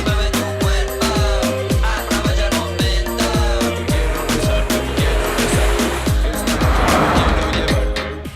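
Hyundai i20 Turbo DCT hatchback under hard acceleration, with a loud close engine rising in pitch through repeated quick gear changes of the dual-clutch box, the revs climbing and dropping in a sawtooth pattern.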